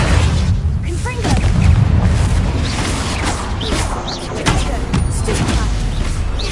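Repeated explosive Confringo spell blasts in Hogwarts Legacy: dull booms and pops with creaking, crashing debris in a busy, continuous combat mix, close and loud.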